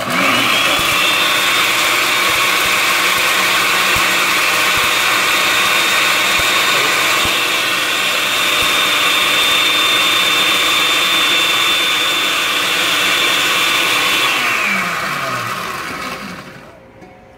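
Blender running on its chop setting while drying celery leaves on a stainless steel plate, a loud steady motor whine with a high tone that holds for about fifteen seconds, then drops in pitch and winds down to silence.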